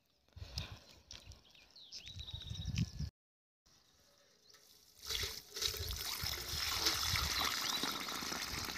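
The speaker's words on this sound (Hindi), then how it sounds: "तो ये पानी डाल दिया है" Water from a filled pot is poured little by little onto plants outdoors on a hot day, trickling and splashing in bursts, then a steadier gush later, with no talking.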